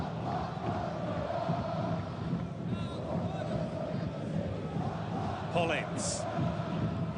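Western Sydney Wanderers supporters in the RBB end making continuous football crowd noise during an Asian Champions League match against Sanfrecce Hiroshima, a dense roar under a commentator's voice, with a sharp whistle-like cry near the end.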